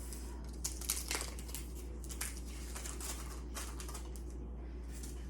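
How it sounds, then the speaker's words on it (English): Parchment paper being peeled off a hot gluten-free sourdough loaf on a cooling rack, with soft crinkling and tearing rustles in short bursts over a low background hum, fairly faint and close. "We're taking the parchment off."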